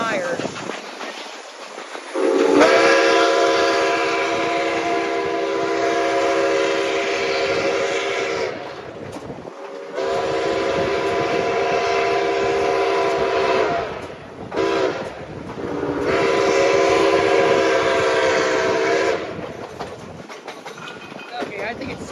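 NKP 756 steam locomotive on a fall color special, its whistle blowing three long, loud harmonic blasts separated by short gaps, over a steady rumble of the running train.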